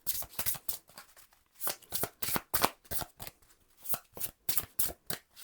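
Tarot cards shuffled by hand in quick, crisp bursts, a steady rhythm of riffling close up with brief pauses between rounds.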